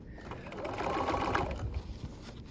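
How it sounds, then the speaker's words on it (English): A sewing machine stitches the top of a bucket hat to its crown, running steadily with a close, even mechanical whir for a couple of seconds. "And still sewing over."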